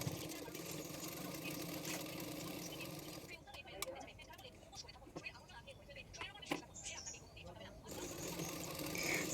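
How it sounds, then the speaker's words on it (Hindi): A sewing machine stitches the side seams of a prince-cut blouse in a steady, continuous motor hum, broken by a quieter stretch of scattered handling clicks before the whirring starts again. "साइड से भी मैं एक एक सिलाई कर दूँगी।"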